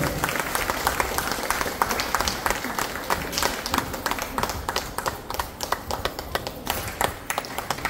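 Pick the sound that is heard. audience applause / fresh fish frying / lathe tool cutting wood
audience applause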